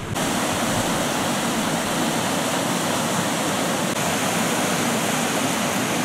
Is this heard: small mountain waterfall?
yes